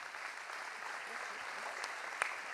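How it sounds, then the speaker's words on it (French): Audience applause at a New Year's greetings speech, a soft, continuous wash of clapping heard from a distance, faint and even for a few seconds. "je pense qu'on peut l'applaudir"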